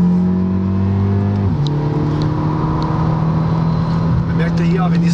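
A Volkswagen Polo GTI with a 1.8 litre turbo engine is driven through S-bends, its loud steady engine drone shifting pitch as it changes gear and load, heard from inside the car under talking.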